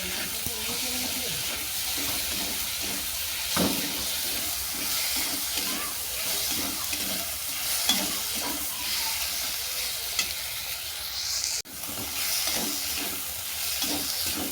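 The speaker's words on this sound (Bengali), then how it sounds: "স্বাদ মতো লবণ মশলাটা ভালো করে কষিয়ে নিচ্ছি" Spice paste seasoned with salt stir-fried for a snake gourd vegetarian dish, a steady sizzle and hiss with soft repeated scraping strokes of a spatula throughout, close and moderately loud.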